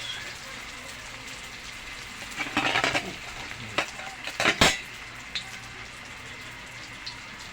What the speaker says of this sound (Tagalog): Ipiprito na guys. Ang ating lumpiang tugi.